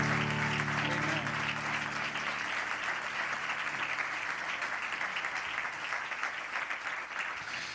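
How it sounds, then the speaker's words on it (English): Audience applauding camp counselors at a Sunday morning church gathering, dense steady clapping filling the room throughout, with faint tonal hum at the start. "Let's give them a real hand clap."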